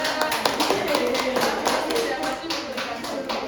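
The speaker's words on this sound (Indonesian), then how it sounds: "Oke, beri tepuk tangan untuk Mbak Cynthia" Classroom applause for a student after a group presentation in a ninth-grade Indonesian-language practice lesson, steady dense clapping from a room of students filling the whole stretch at moderate loudness.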